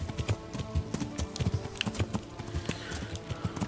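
Horse hooves clip-clop steadily on the ground in the medieval game Kingdom Come: Deliverance, a quick rhythmic trot over background music.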